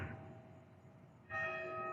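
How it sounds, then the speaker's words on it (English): A church bell in Pensacola, Florida rings at the top of the hour. After a quiet outdoor stretch, one clear strike comes in loud and keeps ringing with a sustained, humming tone. "that's the bell coming from that church over there right now. Top of the hour."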